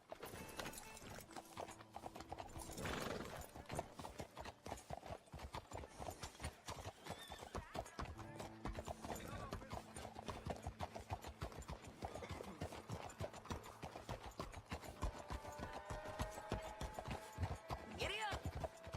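Horse hooves clip-clopping at a steady trot in Red Dead Redemption 2, continuous and fairly near, with an occasional whinny and game voices talking over the rhythm.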